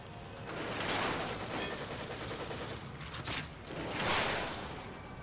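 Sustained gunfire in The Evil Within video game, a dense rattling fusillade of shots that swells and eases in waves across several seconds, heard alone without talk.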